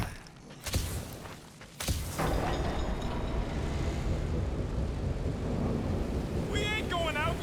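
Strong wind gusts roar steadily in a Marvel's Guardians of the Galaxy video game scene, a loud continuous rushing blast with sharp bursts near the start and a brief whistling chirp near the end, with no talk over it.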